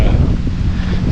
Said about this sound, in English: Hopefully you guys can hear me because of the wind a little windy.